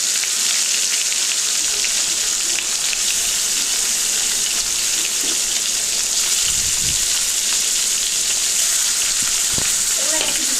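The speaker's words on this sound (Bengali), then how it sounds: "মাছগুলো একটা একটা করে ছেড়ে দিচ্ছি।" Pieces of bhola fish drop one by one into hot oil in a wok, giving a steady, close, broadband sizzle across the whole stretch with a few brief soft knocks.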